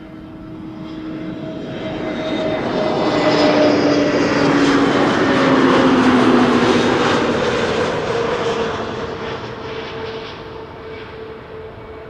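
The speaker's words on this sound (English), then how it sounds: "A320 Neo arriving from Edinburgh up next" An Airbus A320neo arriving from Edinburgh passes overhead on approach to Schiphol Airport, its engine roar swelling to a loud peak with a falling whine, then fading away.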